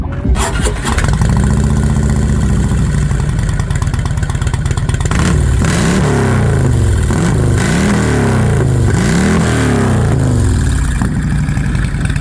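A 2016 Harley-Davidson Heritage Softail with Cobra fishtail exhaust starts up and settles into a loud, close idle, then revs repeatedly in rising and falling bursts.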